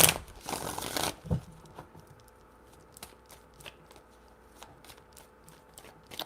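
Tarot cards being shuffled, a dense riffling burst in the first second followed by quieter scattered taps and card snaps, close and alone with no talking.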